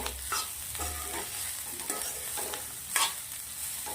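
South Indian yellow lemon rice is stirred in a pan with a spoon, making repeated scraping strokes over a soft, steady sizzle, with a few sharper scrapes standing out.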